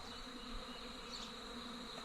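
A small wild honey bee swarm of a few thousand bees hums in a continuous, even buzz close around, quiet but unbroken throughout, with no talking.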